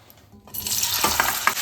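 Jujube pickle stirred in hot mustard oil, a soft sizzle rising after a quiet start, with light scraping and a few sharp clinks of a spoon against the pan, close and steady.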